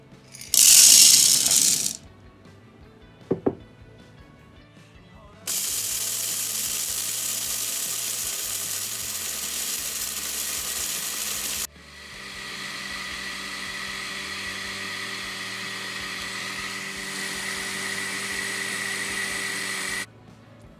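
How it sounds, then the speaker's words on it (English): Electric mill grinding dry beans into fine powder for tumbani and koose, heard as a steady whirring drone in two long stretches, preceded by a sharp burst of rattling at the start. "we'll begin by milling these dry beans"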